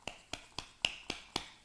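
Hands clap six times in an even, unhurried rhythm, each clap a crisp, fairly quiet and close smack with near silence between.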